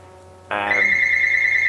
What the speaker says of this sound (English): Sorry if you can hear a phone in the background there